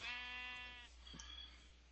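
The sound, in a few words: sheep bleating in the video game Minecraft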